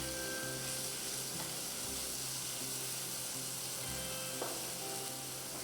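Chopped tomatoes sizzle steadily in hot oil in a pan while brinjal poriyal is cooked, a dense, even frying hiss with faint stirring scrapes throughout.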